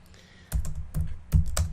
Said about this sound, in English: my typing's a bit on the shaky side today